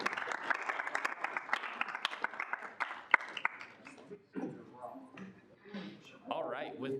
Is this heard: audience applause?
yes